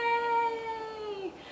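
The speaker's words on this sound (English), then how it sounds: "I have a cat that doesn't want to stay" A house cat meows in one long, drawn-out call with a slight downward bend at the end, close to the microphone and alone, lasting over a second before fading.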